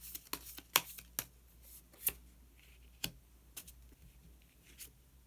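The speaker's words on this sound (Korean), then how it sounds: "마법사 카드 한 장 더 뽑아보도록 하겠습니다." Tarot cards are shuffled and drawn by hand, giving soft papery flicks and sharp card snaps that come in irregular bursts, close and fairly quiet, and no one speaks.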